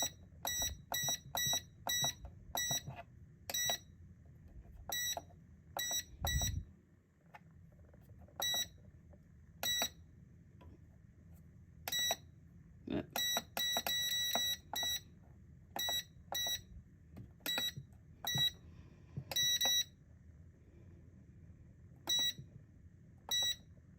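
Heat press timer alarm sounding repeated sharp electronic beeps in quick bursts and clusters, loud and close, over a low background hum in a mug-pressing setup.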